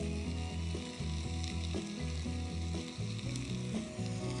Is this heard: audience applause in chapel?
no